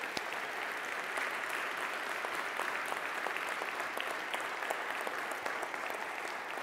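A church congregation claps steadily and loudly for several seconds, a dense, even patter of many hands with no pauses.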